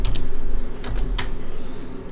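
A computer keyboard being typed on to enter a number, a handful of quick close clicks and taps over a faint background hum.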